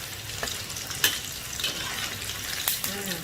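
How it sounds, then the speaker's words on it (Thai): Salted chicken wings deep-fry in hot oil until golden and crisp, a continuous bubbling sizzle broken by a few sharp crackles and utensil clinks, close and fairly loud. "นี่การจะทอดให้เหลืองกรอบเลยค่ะ"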